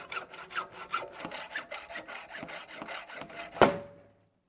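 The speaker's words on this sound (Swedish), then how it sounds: "vi får köra med en hederlig såg den sista biten här" A hand saw cuts through a coilover part for a Volvo 740 in steady, rhythmic strokes, about a dozen close passes, then a sharp metallic clatter as the piece comes free, followed by silence.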